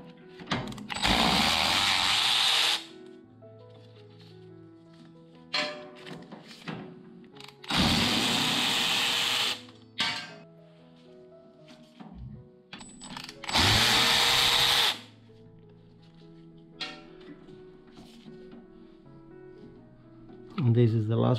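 A power tool spins out T45 bolts from a BMW R1200 GSA motorcycle brake rotor in three loud whirring bursts of a few seconds each, with someone talking in the gaps between them.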